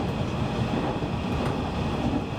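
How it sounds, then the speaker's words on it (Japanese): A twelve-car JNR 415 series electric commuter train on the Kagoshima Main Line, a steady close rumble of motors and running gear with a faint whine, continuous and without voices. "415 系国鉄近郊型電車12両編成がモーターをうならせ"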